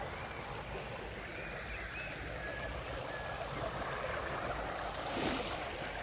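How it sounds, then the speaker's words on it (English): Running water of a woodland stream flowing in a steady, continuous wash, with a broad rushing noise that swells slightly near the end and no voices. "there's the stream."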